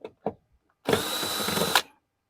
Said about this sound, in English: you have to take off these two 8mm screws, or you could use a Phillips head screwdriver